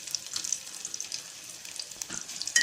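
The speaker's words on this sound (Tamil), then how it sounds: "இஞ்சி நல்லா வதக்கிடுங்க." Ginger sizzles in oil in a pan with cinnamon and cloves for a horse gram and thuthuvalai soup, a soft, steady frying hiss close by with faint stirring scrapes.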